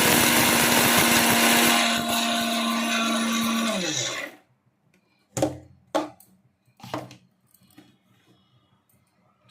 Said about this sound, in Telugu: ఇప్పుడు మనం దీన్ని మిక్సీ పెట్టాలి.